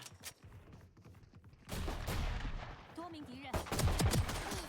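Rapid gunfire rattles in bursts during a Valorant Mobile match on a phone, fairly close and loud, with excited voices talking over the shooting.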